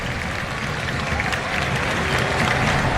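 Stadium crowd applauding a substituted Olimpia player during a Paraguayan league football match against Sportivo Ameliano, a steady dense wash of clapping and crowd noise throughout, with commentary voices over it.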